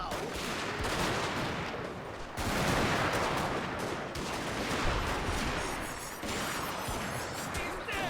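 Rifle volleys crackle through a Boshin War battle at Kōshū-Katsunuma, dense rapid gunfire bursts in waves for several seconds, loud and chaotic with brief lulls between volleys.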